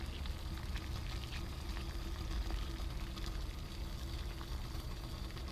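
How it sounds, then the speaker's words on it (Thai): Water comes to a boil in a pot over a homemade can alcohol stove, a faint, steady bubbling hiss and low rumble running unbroken for several seconds without speech. "น้ำเดือดแล้วนะ"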